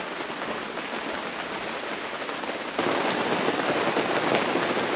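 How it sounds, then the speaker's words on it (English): Heavy rain pours steadily during a thunderstorm at a deer camp, a dense continuous hiss that grows louder partway through, with no talking. "It's raining pretty hard."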